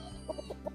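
A Timberlane hatch gamefowl rooster on a gamefarm makes a few short, soft clucks in quick succession over a quiet background hum.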